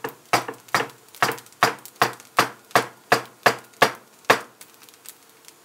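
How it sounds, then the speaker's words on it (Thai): A knife cuts a thin rolled omelette into strips on a cutting board for Thai canned-fish fried rice. About a dozen crisp, evenly spaced chops land close by, each with a short sharp attack and a quick decay, and no voices are heard. "หั่นไข่เป็นเส้นๆนะคะ"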